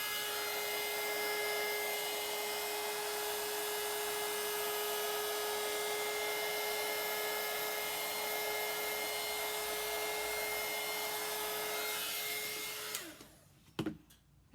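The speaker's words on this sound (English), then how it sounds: "And for now, I am going to use the heat gun." A heat gun blows steadily over a glitter resin coaster, a loud continuous whooshing hum with a faint whine that runs for about thirteen seconds and then cuts off, leaving a couple of small knocks.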